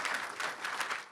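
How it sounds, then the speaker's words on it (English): Audience at a town hall event applauding, a short burst of dense, steady clapping from a crowd at moderate distance, heard alone. "You can applaud now."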